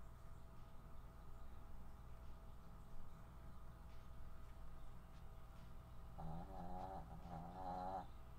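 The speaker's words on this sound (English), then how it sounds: "I think the mic is picking up my dog snoring" A dog snoring nearby, a faint low rasping that turns into rhythmic drawn-out breaths toward the end, under steady background hum.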